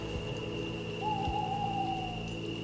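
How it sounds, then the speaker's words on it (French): An owl hoots once at night in a forest, a soft, drawn-out call standing out from a low steady hum and faint wind. "À part le bruit du vent et le cri d'un hibou"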